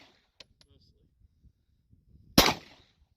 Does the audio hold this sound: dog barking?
no